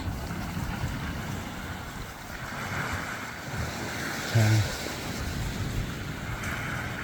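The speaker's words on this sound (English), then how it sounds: "The waves are coming in a bit higher than they were on the way down" Sea waves rolling in on a rocky coast along a coastal walk near New Quay, a steady broad wash of surf with wind buffeting the microphone throughout.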